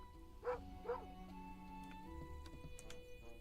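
In the video game Moonlighter, a small dog gives two quick, clear barks close together. Soft background music and faint game effects play underneath.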